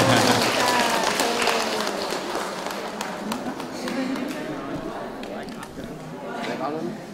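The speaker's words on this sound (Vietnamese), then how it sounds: "Thêm một tràng pháo tay nữa" A crowd claps at a Buddhist Kathina robe-offering ceremony at a temple in Vĩnh Long. The applause starts dense and loud, then thins into scattered claps, with voices mixed in.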